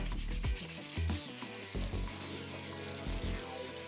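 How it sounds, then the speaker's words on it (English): Plastic parts of an Aquatree garden are scrubbed with soap, giving soft, close rubbing strokes in an irregular rhythm of about half a dozen passes, with no talking. "Nice little scrub."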